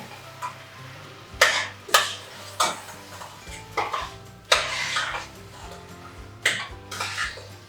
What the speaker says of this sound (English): And give it a good stir around.